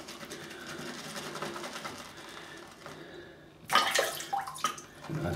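A few drops of water are added to Fitjar Islands shaving cream lather with a badger brush, heard as faint watery trickling and wet splashy bursts that grow louder toward the end, with no voices.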